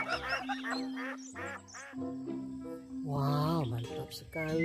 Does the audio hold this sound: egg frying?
no